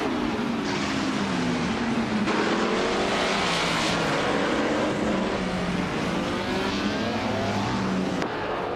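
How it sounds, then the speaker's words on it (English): Race cars roar in a video game race, engines whining and sweeping up and down in pitch as several cars run nose to tail, a steady loud stream of overlapping engine noise throughout. "Nonstop Doom and Supercar are still nose to tail at the front"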